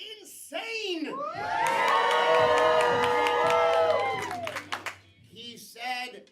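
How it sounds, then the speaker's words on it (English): Comedy club crowd at First Coast Comedy whooping and screaming wildly, a loud sustained roar of high voices with clapping that builds, holds, then fades into scattered shouts. "He said as the crowd went insane."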